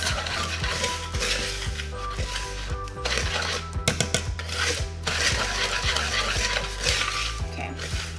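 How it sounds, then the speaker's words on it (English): A whisk mixing pie filling in a bowl for Thanksgiving pies, giving a continuous rapid clatter and scrape of metal wires against the bowl, fairly loud and close, with brief clinks and no speech. "I'm going to use my whisk and mix it all together"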